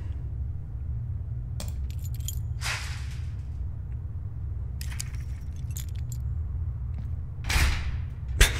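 Keys jangle in the Firewatch video game in several short metallic bursts spread across the clip over a steady low background hum, close and clear, with no talking.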